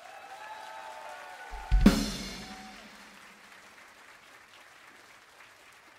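A live-concert audience at Ebisu Liquid breaks into applause, a sudden loud burst near the midpoint that swells quickly and then slowly fades away, heard alone without talk.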